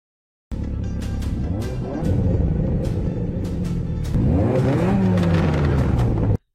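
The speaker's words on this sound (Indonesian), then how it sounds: "Hingga akhirnya balapan pun dimulai." Race cars accelerating at the start of a car race, a loud close engine roar that climbs in pitch through repeated gear shifts over several seconds, then cuts off abruptly; no talking.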